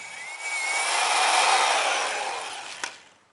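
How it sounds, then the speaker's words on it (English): A power drill runs a bit through metal for a few seconds, a steady loud whir that swells and fades, ending with a brief sharp click as it breaks through. "Just going to drill nice and easy. We're not pushing the drill bit through the material,"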